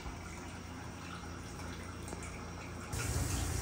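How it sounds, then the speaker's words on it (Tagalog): Water coming to a boil in a pot for sinigang na lapu-lapu, a continuous soft bubbling hiss heard fairly close and steady, growing slightly louder near the end. "Ayan na po, kumukulo na po ang ating tubig po."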